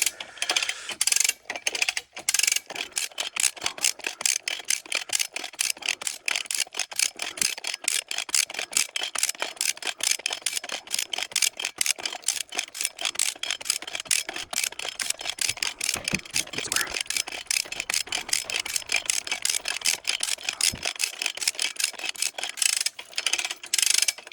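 Hand-cranked winch ratcheting as it drags a raft up a beach, a rapid close series of sharp metallic clicks in a steady rhythm, with brief pauses between bursts and no voices.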